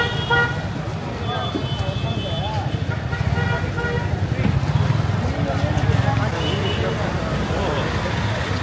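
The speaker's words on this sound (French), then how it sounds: "ils klaxonnent beaucoup ici" Vehicle horns honk again and again in dense street traffic in Chennai, India: short toots and longer blasts from several vehicles, near and far, over a steady roar of engines.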